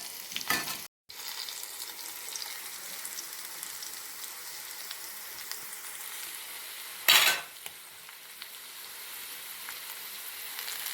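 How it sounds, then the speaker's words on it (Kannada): Green chillies fry in oil in a pan for dal khichdi, giving a steady, close sizzle that lasts throughout. A brief clatter of stirring comes near the start, and a short louder scrape of a utensil follows later, with no talking. "ಹಸಿಮೆಣಸಿನ್ಕಾಯಿ ಈ ರೀತಿಯಾಗಿ ಹುರ್ಕೊಬೇಕು"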